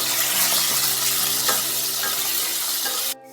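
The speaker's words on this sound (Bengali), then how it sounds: "সর্ষের তেল ভালোভাবে একটু গরম হলে কেটে ধুয়ে রাখা আলুগুলো দিয়ে দিচ্ছি ভাজার জন্য" Cut, washed potatoes fry in hot mustard oil in a wok for a vegetable khichdi, a loud, close, continuous sizzle with faint crackles that cuts off abruptly near the end.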